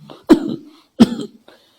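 A person coughs and clears the throat twice during prayer, with two sharp, close, loud bursts about three quarters of a second apart, each trailing into a rough rasp and then silence.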